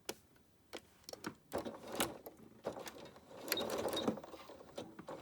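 A home sewing machine runs a long basting stitch along a knit dress hem in short, uneven bursts of quiet mechanical whirring and ticking, with brief pauses between runs.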